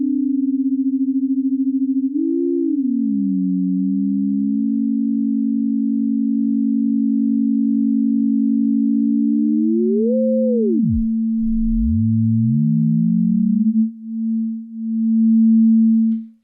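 A Digitone II FM synth holds a steady low tone with offset operator ratios. The pitch bends and swoops several times as the operators phase against each other, then dips and returns in a slow wobble with no voices.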